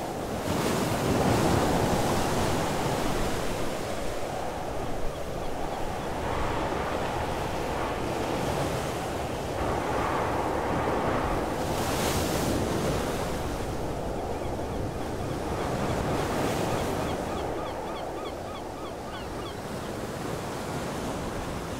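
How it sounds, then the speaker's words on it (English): Strong storm wind roars through forest trees near coastal cliffs in Denmark, a loud continuous rushing with gusts swelling and easing over the whole stretch, buffeting the microphone, with no voices. "I'm not sure how much you can hear because the wind in the trees is just"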